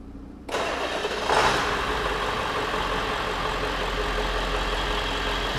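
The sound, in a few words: car engine starting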